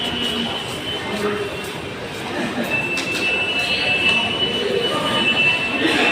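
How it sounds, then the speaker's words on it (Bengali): Busy Kolkata metro station interior with a steady crowd murmur, overlapping voices and a faint high electronic tone running throughout, no train clearly passing. "আর এই হচ্ছে এইরকম মেট্রো স্টেশন।"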